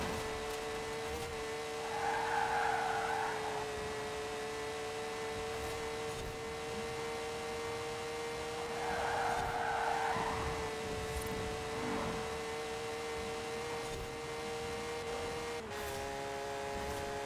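Car tires squealing as the vehicle is forced around a corner in the video game Forza Horizon 4, two drawn-out skid squeals rising over a steady engine drone, with a fainter scrape later.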